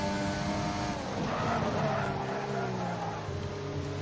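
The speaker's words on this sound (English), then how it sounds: "Double lock up it sounded like" Race car tyres briefly lock and squeal under heavy braking into Vale at Silverstone in an Xbox sim racing league race, a screeching skid over a droning engine that gradually drops in pitch, with faint commentary underneath.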